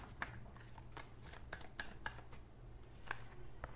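Tarot cards being shuffled by hand, heard as quiet, close, irregular riffling and slapping with a soft background hum.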